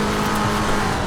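A McLaren 720S GT3 race car in Assetto Corsa Competizione, running slightly sideways as the throttle comes off and it clips the curbs, giving a loud, steady, close engine roar with no talk.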